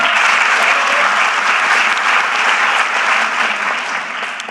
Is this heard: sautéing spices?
no